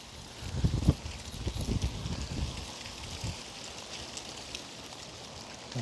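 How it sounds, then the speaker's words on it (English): Rain and gusting wind outdoors on a wet autumn day with leaves blown from the trees, a broad steady wash of noise with louder gusty bursts early on that settle into a quieter, even hiss. "It's rainy and windy today, and so a lot of the leaves have actually blown off the trees."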